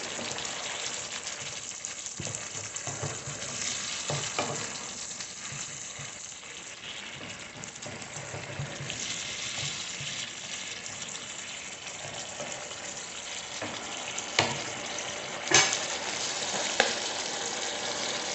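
Matar paneer curry being stirred in a frying pan after water is added, giving a steady wet sizzle and bubbling hiss with a few soft utensil knocks near the end.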